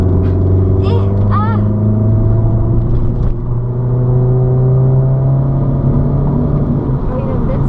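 A race car on a circuit runs with a steady, droning engine note, shifting gears on its own, heard from inside the car with people talking over it.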